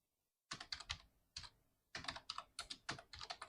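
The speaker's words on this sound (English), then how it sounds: "I type example name" Typing on a computer keyboard while entering data into an Excel spreadsheet, with rapid bursts of close, crisp key clicks separated by short pauses, and no voice present.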